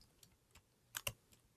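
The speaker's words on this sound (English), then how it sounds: "how to move with the arrow keys" Arrow keys tapped on a computer keyboard while moving a sprite in Scratch: a handful of quiet, sparse clicks, with two sharper presses close together near the middle, no voices.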